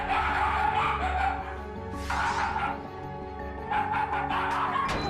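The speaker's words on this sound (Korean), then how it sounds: "하루에도 몇 번씩 으르렁거리는 녀석들" Two pet dogs, Archie and Pio, bark and yip steadily at close range in a house, the barks loud and overlapping, with a brief whimper among them and little or no growling audible.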